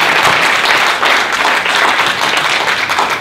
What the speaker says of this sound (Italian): farei un applauso a tutti quelli che stanno lavorando